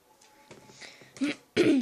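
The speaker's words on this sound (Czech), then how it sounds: "Mám trochu kašel." A person coughs and clears their throat, a few short rough bursts growing louder, the last one strongest, with no other voices.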